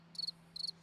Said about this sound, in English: There we go. Cricket.